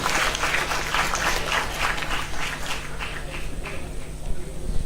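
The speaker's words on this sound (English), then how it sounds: "can we all give a round of applause to everybody that stood up and took the microphone?" Applause from the audience at an international conference after several people stood up to speak at the microphone, a steady wash of clapping lasting throughout and thinning out toward the end.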